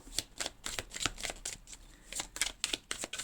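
Tarot cards are shuffled by hand close up in a quick, steady run of crisp riffling slaps and flutters, with no talking.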